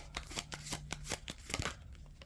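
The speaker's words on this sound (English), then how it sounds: "I'm going to pull one of these cards." Oracle cards from a deck are handled up close, giving a run of quick, soft papery flicks and snaps in a quiet room, with no voice over them.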